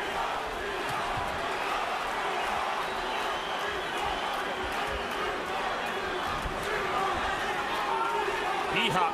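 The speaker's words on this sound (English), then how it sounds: "B-Hop chant here in Montreal" A boxing crowd in Montreal chants "B-Hop" for Bernard Hopkins during a world light heavyweight title fight against Jean Pascal, a steady loud roar of many voices that holds for the whole stretch.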